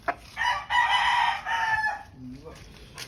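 A young rooster kept as a future broodcock crows once in a drawn-out, close call, followed by a brief low cluck and a short squawk.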